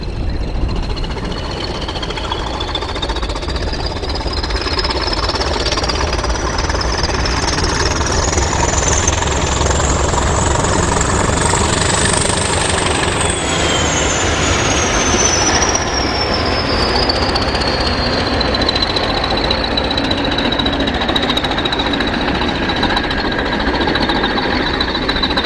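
A freight train hauled by classic diesel locomotives passes near the East Coast Main Line at Tallington, a loud steady roar of engines and wagons with a rising then falling wheel squeal running throughout.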